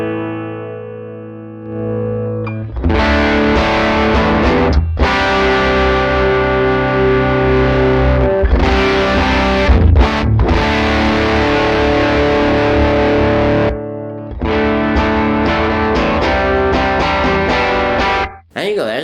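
Electric guitar on a single-coil pickup through a pushed Fender tweed Deluxe amp model on an Axe-Fx III, loud crunchy breakup strumming chords and riffs in bursts with short gaps between phrases.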